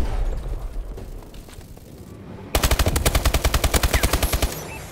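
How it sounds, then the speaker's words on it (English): In a video game, a friendly bombing run arrives as a loud, rapid burst of machine-gun fire. Evenly spaced shots start abruptly halfway through and follow a dense rumble of battle noise. "Friendly bombing run clearing the way."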